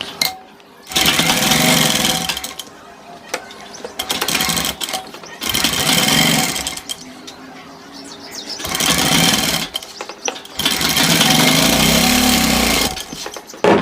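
A sewing machine stitching a gents kurta runs in four loud, close bursts of rapid mechanical whirring, separated by short quiet pauses.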